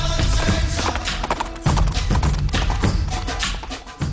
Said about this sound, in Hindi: इसीलिए तो रजत के लिए चुलबुल नाम का ये घोड़ा लाया गया है।